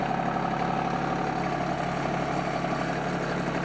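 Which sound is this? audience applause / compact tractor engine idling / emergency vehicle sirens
compact tractor engine idling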